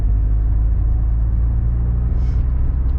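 Citroën ZX 1.9 turbo diesel from 1993 pulling hard to overtake a truck on the road, its engine a steady, loud low drone heard from inside the car, with no talk.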